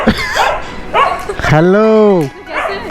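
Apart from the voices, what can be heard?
two dogs barking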